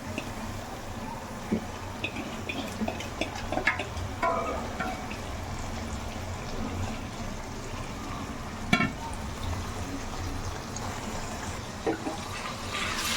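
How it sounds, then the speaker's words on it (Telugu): Fish pieces for a Telangana-style fish curry cook gently in oil, giving a low, soft sizzle with occasional light clinks and bubbling close by. "కొంచెంసేపు ఆయిల్లో మగ్గనిస్తాను అనమాట"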